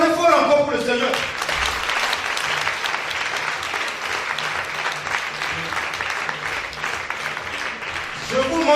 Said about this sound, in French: Acclamez fort encore pour le Seigneur.